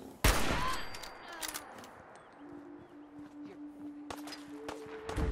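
Gunfire in the video game Fallout 4: a sharp loud shot at the start, then scattered distant shots and thuds over a droning ambient background, with a few more sharp cracks near the end.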